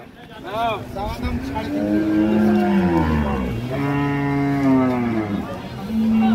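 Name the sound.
cow and calf at a cattle market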